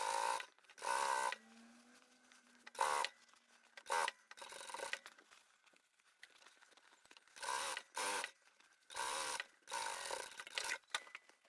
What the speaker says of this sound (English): So we'll just top stitch all the way around the top edge.